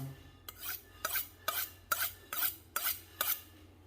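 A steel honing rod is drawn along a kitchen knife edge in seven quick, evenly spaced scraping strokes, each a bright rasping swipe, close and alone.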